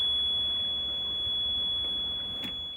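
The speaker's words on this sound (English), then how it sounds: "when it comes up the battery alarm goes on, and then drops down to 0, battery alarm goes off." A boat engine battery alarm sounds as a steady, thin high-pitched tone that holds continuously over a low engine rumble, close by and without talk.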